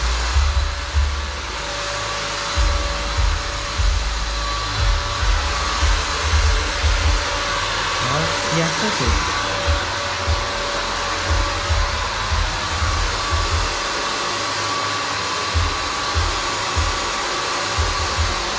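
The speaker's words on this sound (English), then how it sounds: "if there's one thing that's nice about having a shop vac, is that it has a wet dry vacuum" Wet/dry shop vac running in a home while a fridge is being defrosted, a steady loud whine with repeated low thumps and bursts, and a voice speaks briefly near the start.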